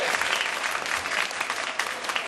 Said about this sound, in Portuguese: Palmas pra ela.